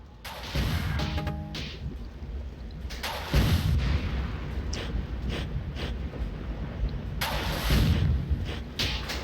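Rockets fired and exploding in the video game Marathon 3: Infinity, with three loud booming blasts spread across the stretch, separated by rumbling and crackling aftermath, with no talk.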